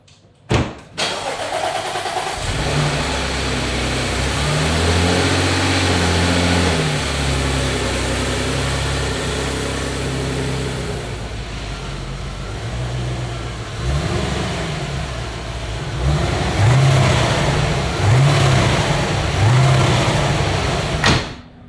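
An Audi RSQ8 engine runs loudly and steadily, revving up several times as the vehicle pulls away, with no talking.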